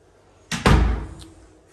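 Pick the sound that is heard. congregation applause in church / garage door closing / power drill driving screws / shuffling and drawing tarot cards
garage door closing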